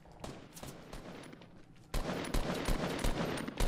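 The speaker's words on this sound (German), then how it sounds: "Auf mich wird auch ganz doll geschossen." Rapid bursts of automatic gunfire in the video game Fortnite crackle in quick volleys, quieter at first, then louder and denser in the second half, with no speech.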